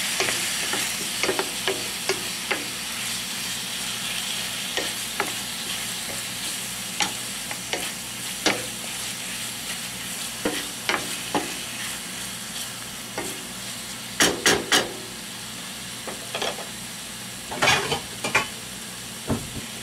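Cajun chicken with green beans fries in oil with a continuous close sizzle. Frequent sharp scrapes and clacks of a stirring utensil against the pan come in irregular bursts, heavier toward the end, with no talking.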